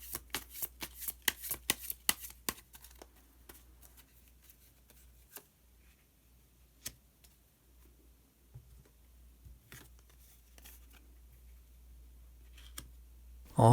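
Tarot cards are shuffled in a quick, dense flurry of crisp riffling clicks. Then come a few sparse, soft snaps and slides as single cards are drawn, close and fairly quiet, with no voice over them.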